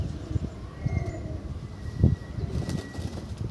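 Pigeons of desi and Madras breeds shuffle and flutter at a loft, with soft wing flaps and faint cooing over a low background murmur.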